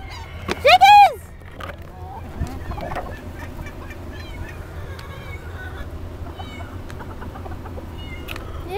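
Backyard chickens, some turning seven or eight years old, are fed a large banana cream pie. A loud, sharp call rings out near the start, then softer bird sounds and quiet outdoor ambience follow with a faint voice underneath.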